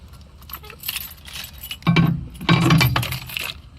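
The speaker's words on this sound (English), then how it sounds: "these little silver compartment keys do all the storage compartments" Small silver storage-compartment keys for a 2021 Forest River Sunseeker 3050S motorhome jangling close up, with light metallic clinks at first and then two louder bursts of rattling keys.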